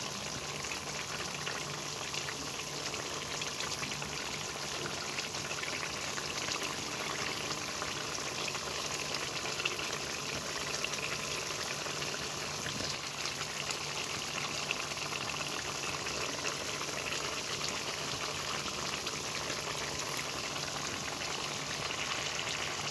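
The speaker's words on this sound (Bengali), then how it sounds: "আলুটা খুব ভালোভাবে সিদ্ধ হয়ে গেছে, এবারে আমি ডিমগুলো দিয়ে দেব" Eggs are added to a pan of well-boiled potatoes, and the pan gives a continuous, even sizzle and bubbling hiss that runs unchanged throughout, with no voices.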